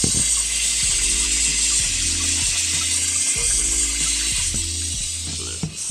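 Water flows steadily through a newly installed hydroponic float valve, a continuous hiss with a faint mechanical stutter under it, close and unbroken, with no talking.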